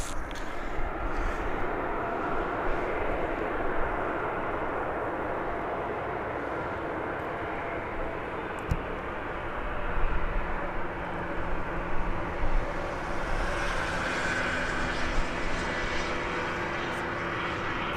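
A Turkish Airlines airliner at Birmingham Airport gives a steady, loud jet engine roar that lasts throughout, swelling slightly midway, with no talk over it.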